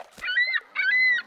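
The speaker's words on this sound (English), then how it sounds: "It was just a seagull." A bird's two drawn-out, nasal calls, each about half a second, harmonic and fairly close, with a short gap between them and no voices.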